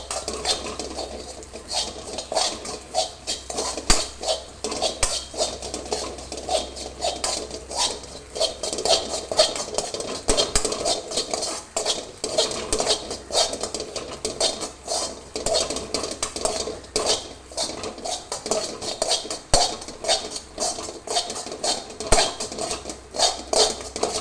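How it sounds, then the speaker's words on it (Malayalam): Kothu chappathi being mixed with spice powders in a pan, heard as a steady run of scraping and clinking utensil strokes against the metal, close and fairly loud with no voices. "പൊടികളെല്ലാം ഇട്ട് നമുക്കിത് നന്നായിട്ടൊന്ന് മിക്സ് ചെയ്തെടുക്കണം"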